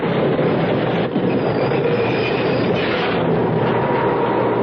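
Subway train running as a radio drama sound effect: a loud, continuous rumble of rolling wheels with faint squeal and clatter, close up and steady throughout.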